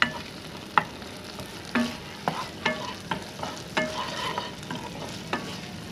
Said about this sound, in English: Just saute it for 20 seconds.